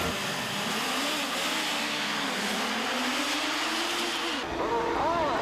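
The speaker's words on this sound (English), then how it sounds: "But at the start, it's the Rabbit Poland leaping to the first turn ahead of local Ron Eworth" Suzuki GSX-R 750 and 1100 racing motorcycles roar off the line at a 1986 National Cup race start, a loud, continuous engine drone whose pitch climbs and wavers as they accelerate, with a shift in tone near the end.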